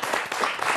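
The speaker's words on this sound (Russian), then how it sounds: "Эти аплодисменты, Белослава, вам." Studio applause on a regional TV evening program, a brief, dense wash of many hands clapping at steady volume.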